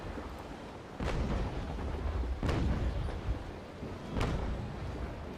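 Ship cannons firing in the Naval Action video game, three heavy booming shots spaced about a second and a half apart, each followed by a rumbling tail over steady sea and wind ambience.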